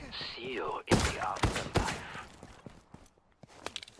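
Gunfire in a free-to-play futuristic shooter: several sharp, loud shots in quick succession followed by fainter scattered pops and thuds, mixed with game sound effects.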